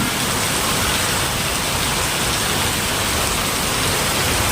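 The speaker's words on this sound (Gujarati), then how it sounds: "વરસાદ ચાલુ થઈ ગયો" Steady, dense rain pours down loudly and without pause, a constant hiss filling the whole stretch.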